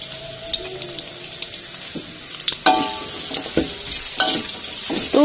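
Garlic and shallots sautéing in a pan for fried shrimp paste, a soft sizzle broken by spatula scrapes and sharp utensil knocks, with a faint watery trickle in the background.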